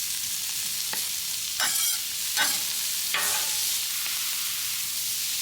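White onion with chopped steak and brisket frying in saffron oil on a flat griddle, a steady close sizzle with a few louder bursts as food is moved or added.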